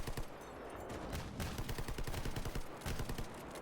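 Gunfire from a firefight in the shooter S.T.A.L.K.E.R. GAMMA, a fairly distant, quiet mix of bursts and single shots rattling in irregular clusters, with no talk.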